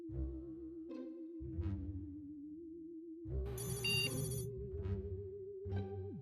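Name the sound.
phone ringing with an incoming call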